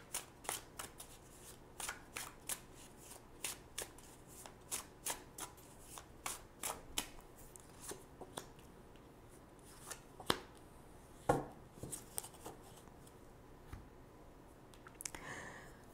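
Tarot cards riffle and shuffle in a quiet room, with a steady run of crisp, close slaps and flutters and a few louder snaps, no voice over them.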